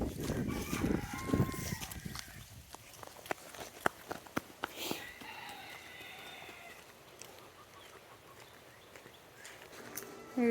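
Chickens and a rooster sound faintly on a farm outdoors, with a few short crows and clucks early on amid footsteps and quiet background noise.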